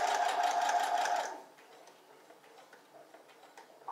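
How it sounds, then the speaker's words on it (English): A home sewing machine stitches scrap fabric for catnip cat toys with a fast, steady whir at close range, then stops after about a second and a half, leaving faint ticking and handling sounds. "lift up the foot, turn the fabric, put the foot back down, and then stitch again"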